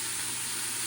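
Onions and cabbage sizzle steadily in a soup pot, a continuous soft hiss of frying that stays even and moderately quiet for under a second.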